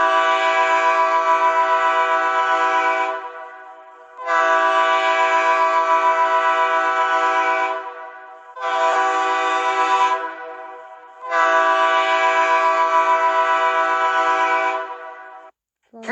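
Train horn sounding four separate blasts with brief gaps between them, loud and harsh with no other sounds.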